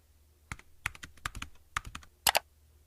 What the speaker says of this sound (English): Type the grading period